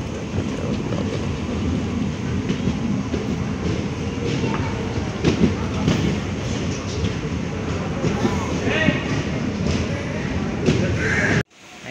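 A Tea Garden Express train rumbles steadily with clattering and metallic squeals as it rolls into a station, loud and continuous, before an abrupt cut near the end.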